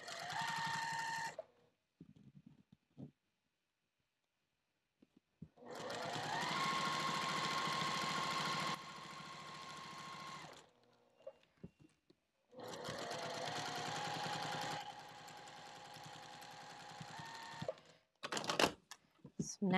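A sewing machine stitches a sling bag in short bursts: a brief run, a quiet pause with light handling noise, then two longer steady whirring runs of stitching separated by another gap.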